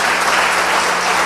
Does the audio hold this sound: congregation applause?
yes